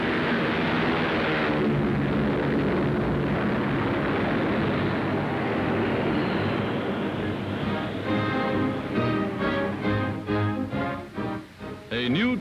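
WWII military aircraft taking off down a runway in 1942 newsreel footage, a loud sustained engine roar that gradually fades and grows rougher and pulsing near the end.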